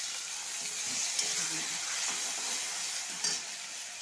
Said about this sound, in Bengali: শুকনো লঙ্কা পেঁয়াজটা আগে ভালো করে ভেজে নিই